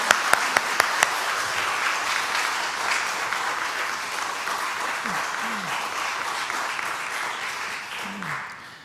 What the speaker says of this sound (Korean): 할렐루야로 박수치며 선교사님을 환영하도록 하겠습니다